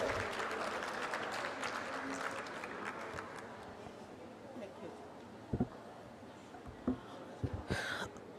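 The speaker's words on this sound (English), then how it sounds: "Please, a round of applause for the panelists again." An audience at a women's conference in Lusaka, Zambia applauds the panelists, a steady wash of clapping that fades away, leaving scattered thumps and faint voices.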